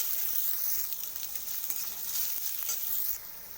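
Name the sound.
chopped garlic and ginger frying in a pan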